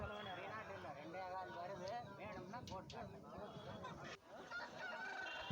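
Chickens cluck and a rooster calls amid a busy, noisy poultry market yard in Tamil Nadu, with people talking throughout.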